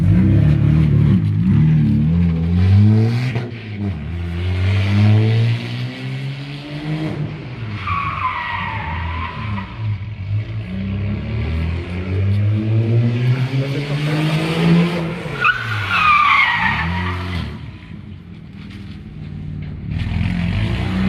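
Tires screech and squeal through several long skids as a car does handbrake turns, its engine revving and whining, the screeching rising and falling over and over.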